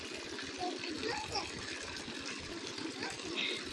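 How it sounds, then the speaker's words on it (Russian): Water splashing and gushing in a fountain in Gorky Park, a steady wash of spray heard nearby, with children's voices chattering over it throughout. "Водичка."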